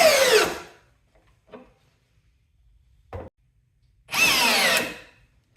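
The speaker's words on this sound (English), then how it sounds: "With this lag bolt, most drills hit overload protection on speed 2." Brushless cordless drill from a Ryobi or Metabo HPT kit driving a lag bolt at speed 2: two loud whirring bursts at start and end, with brief quieter spurts between as the motor strains and cuts out under overload.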